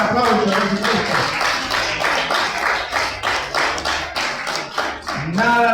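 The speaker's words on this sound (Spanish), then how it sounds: "Dale fuerte el aplauso a Jesucristo." A church congregation claps for Jesus Christ during a worship service, rhythmic unison clapping in a steady beat with a voice and musical tones underneath, loud and lively throughout.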